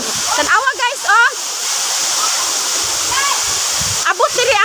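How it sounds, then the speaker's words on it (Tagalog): Waterfall at Lapuyan rushing in a steady, loud broadband roar that persists throughout, with a person talking excitedly over it at the start and end. "naabot na mo ang falls guys. Diri sa Lapuyan"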